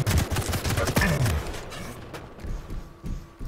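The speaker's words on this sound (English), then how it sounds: "Exchanging headshots with the machine gun." Machine gun fire in a multiplayer shooter match, a rapid burst of close, loud shots in the first two seconds, then scattered thuds and quieter follow-up fire.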